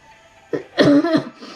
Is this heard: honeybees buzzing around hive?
no